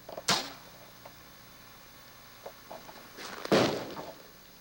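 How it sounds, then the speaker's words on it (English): A single popper warning shot cracks out right up high to scare off an advancing bear on a polar expedition, a loud sharp bang followed by a second broad burst a few seconds later, with faint rustling between. "fires a warning shot, but the bear is undeterred"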